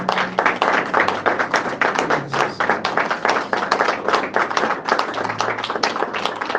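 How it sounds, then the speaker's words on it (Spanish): A church congregation at a Thursday evening general meeting gives a strong round of rhythmic clapping. The claps come in a fast, even, sustained beat throughout, with a voice briefly heard over them. "Dale un fuerte aplauso al Señor."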